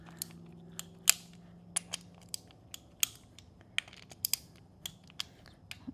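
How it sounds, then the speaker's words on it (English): A big torque wrench tightens bolts during a Honda CR-V K24 engine swap, giving a series of sharp, irregular ratcheting clicks and snaps close by and fairly faint, with no voices. "Yeah, so it pretty much clicks right away for 10 with this big torque wrench."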